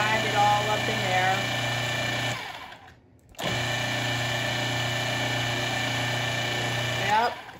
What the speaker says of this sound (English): And then go ahead and grind it all up in there.